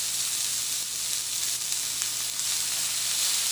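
Chopped onions sizzle in coconut oil in a hot pan, a dense, even hiss that holds steady and loud throughout with no speech.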